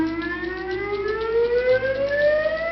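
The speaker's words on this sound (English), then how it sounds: "The whoop tone will sound if there has been a chemical incident at the Anniston Army Depot." A civil defense warning siren at the Anniston Army Depot sounds its whoop tone for a chemical incident, a steady rising electronic pitch sweep with layered harmonics, moderately loud and alone.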